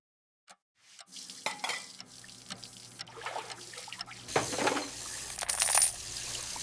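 Coins drop and clink, gathered up amid a cold diner's background clatter, a few small metallic hits early, then denser jingling and scraping building louder toward the end, with no talking.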